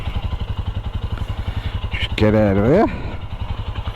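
A Royal Enfield Himalayan motorcycle idles nearby with a steady, rhythmic thumping single-cylinder beat, briefly revved once with a rising note, while a person speaks a few words over it.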